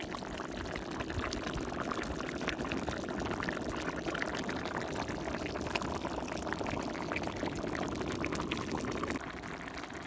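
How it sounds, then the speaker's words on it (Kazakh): 300 ml of vegetable oil poured into a pot of simmering eggplant salad, a steady, close pouring rush that holds evenly for about nine seconds before stopping abruptly. "біз 300 мл өсімдік майын құямыз"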